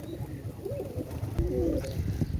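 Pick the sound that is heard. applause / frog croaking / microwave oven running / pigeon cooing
pigeon cooing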